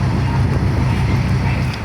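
A single large B8 marine engine runs steadily on a boat during a sea trial, a loud continuous low rumble with wind buffeting the microphone and no pauses throughout.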